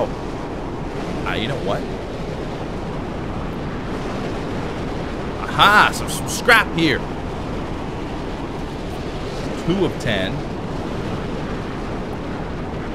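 A loud storm rages in the Mad Max video game, with roaring wind and crashing waves forming a constant, heavy wash of noise. Someone talks over it in short bursts, alongside brief in-game sound effects.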